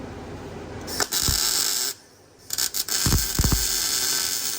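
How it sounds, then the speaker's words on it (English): Welding on the heavily rusted underbody of a car, upside down, a steady close buzzing crackle that stops briefly and restarts in short bursts before running continuously. "All right, I'm gonna keep welding this"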